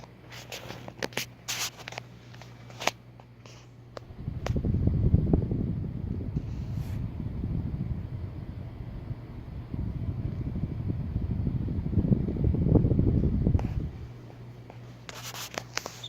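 Emerson Kitty Hawk ceiling fan running on high speed: a few light clicks, then a steady broad whooshing rush of moving air that swells for about ten seconds before easing off, fairly close and with no talk over it.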